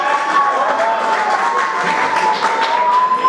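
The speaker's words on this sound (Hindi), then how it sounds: "ये जो लोग एक्स्ट्रा ताली बजा रहे हैं ना" An audience applauding in a dense, continuous patter of clapping hands, steady and fairly loud throughout, with a faint sustained tone running underneath.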